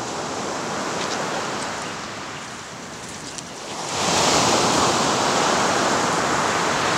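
Waves break and wash steadily along a long sandy beach on the White Sea, a continuous broadband roar that swells louder in the second half as a bigger surge rolls in, with no talking.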